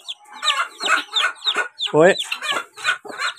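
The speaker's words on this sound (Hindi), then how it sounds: "चलो चलो मुर्गी आप आगे चलो।" A hen clucks again and again in short, close, rhythmic calls among her newly hatched chicks on a home poultry setup, with a brief spoken exclamation mixed in.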